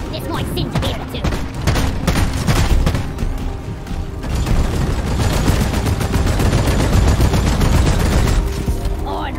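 Sustained gunfire in the video game Deep Rock Galactic, dense overlapping automatic bursts and booms firing nearly nonstop at close range, loud and chaotic, with game effects mixed in.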